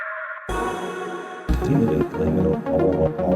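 Sampled guitar from an original song used in a beat remix, a short sustained tone that gives way to a fuller strummed phrase with rhythmic chord hits, close and loud.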